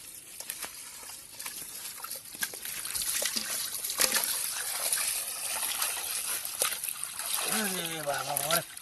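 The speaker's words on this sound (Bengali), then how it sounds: "মাছটা ধুয়ে নি।" Running water trickles and splashes over a large rohu fish as it is washed outdoors in a village kitchen, a steady irregular patter, with a voice speaking near the end.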